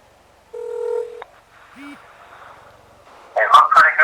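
A mobile phone calls a USB-charger spy listening gadget, producing a steady electronic beep tone, then a brief higher chirp, followed by a muffled voice coming through near the end.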